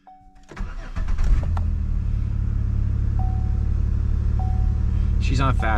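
A 2008–2012 Chevy Impala engine cranks briefly and catches, then settles into a steady, close rumbling idle, with a person speaking over the running engine.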